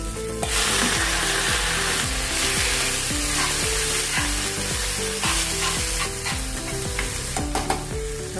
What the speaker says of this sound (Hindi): और अभी इसमें हम अपनी सब्जी डालेंगे।